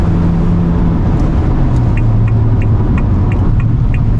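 A large SUV, a Haval Dargo or Exeed TXL, accelerating hard: a loud, steady engine and road rumble from inside the cabin with faint rhythmic ticking over it, and no talk.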